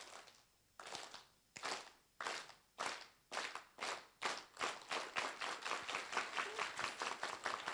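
An audience claps in unison at a summit talk, beginning with slow, separate group claps that quicken into a fast, steady rhythm of loud, sharp strikes with no talking.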